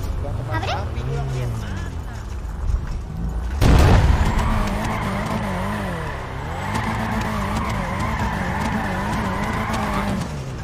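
A car drifting in GTA, a loud sustained tire squeal over the wavering engine note, with a sharp burst of impact or skid noise partway through before the screech continues steadily.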